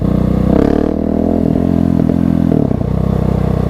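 Motorcycle ridden solo, engine droning steadily with rising revs and throttle changes throughout, loud and close with no talking.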